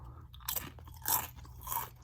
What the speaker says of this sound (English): I'm going to eat 1 kettle chip.